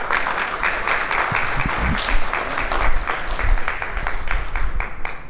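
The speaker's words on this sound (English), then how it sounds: "So everybody give a round of applause for Darren Smith." An audience at a talk bursts into steady applause for Darren Smith, a dense wash of clapping hands that holds for several seconds with a few louder swells and no speech.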